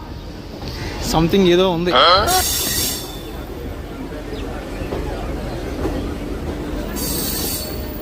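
A MEMU train pulls out of Visakhapatnam Junction with wheel squeal rising and falling, rolling rail noise and a brief high-pitched hiss, while someone talks nearby.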